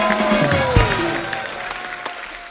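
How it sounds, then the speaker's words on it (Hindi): A studio audience on a comedy show claps loudly in a short burst, with a faint musical tone behind the applause. "जोरदार तालियां"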